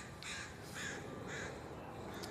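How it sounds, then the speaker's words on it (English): Several crows caw nearby in a forest, three or four harsh calls spaced at a steady rhythm over a constant background hiss, with no one speaking. "Just listening to the crows nearby."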